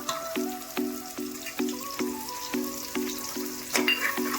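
Ginger garlic paste frying with onions and whole green chillies in a pan for mutton biryani, a close, crackling sizzle with regular stirring scrapes that come in a steady rhythm about twice a second.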